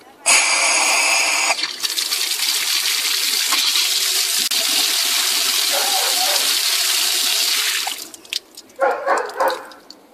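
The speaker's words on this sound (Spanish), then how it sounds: "está llenando la tubería de agua" Water rushes loudly into a well pump pipe, a long steady roaring gush that fills most of the span, with a brief gurgling burst near the start and sputtering, irregular flow toward the end.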